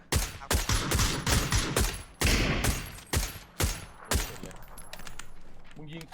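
Rapid bursts of gunfire in the battle game PUBG crack out in repeated volleys, loud and close, while a player's voice talks over the shooting.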